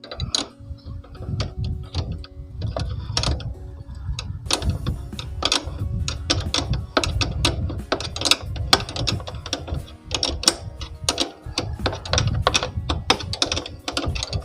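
A bolt being turned in while fitting a rear shock on a Forza 350 scooter, heard as close, rapid metallic ratcheting clicks in irregular bursts throughout, without speech.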